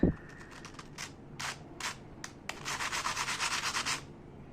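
Crisp crunching and crackling as a fried vada from a Chennai street stall is broken apart, a few sharp snaps followed by a longer rapid crackle, close and fairly quiet.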